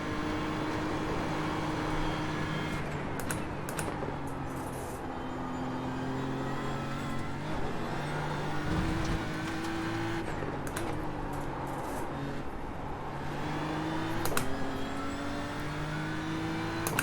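GT3 race car in the iRacing sim on the Nürburgring Gesamtstrecke, a loud sustained engine roar at full throttle with rising and falling pitch through gear changes and a few sharp shifts, heard alone.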